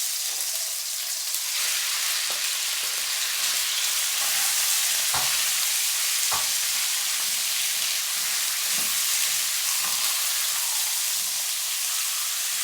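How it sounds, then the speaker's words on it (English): Chicken sizzles and crackles steadily as it is stir-fried in hot oil, a dense close hiss with occasional sharp pops and clinks as it is stirred. "I'm going to be stir frying until it's golden brown or cooked."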